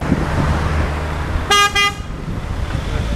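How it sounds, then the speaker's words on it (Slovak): A van horn gives two quick, aggressive honks over steady road and engine noise, loud and close, followed by continuing traffic rumble. "Joško potom zatrúbil agresívne na klaxon"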